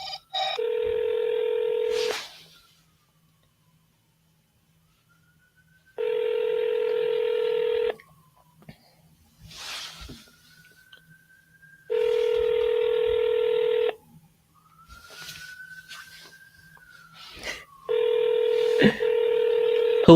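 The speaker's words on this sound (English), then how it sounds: "let's call him back because he didn't answer" An outgoing phone call to a seller rings back. Four long, identical electronic tones sound, each about two seconds with quiet gaps between them, and faint talk and small noises fill the pauses.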